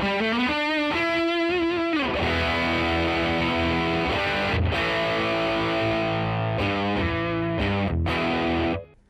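A heavily distorted electric guitar through the second gain channel of a Hayden HGT-A20 combo amp plays sustained chords and notes, loud and gritty, ending abruptly.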